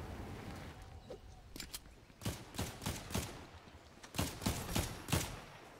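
Bursts of Fortnite gunfire ring out in quick clusters of sharp shots, fairly close, with brief gaps between volleys and faint movement underneath.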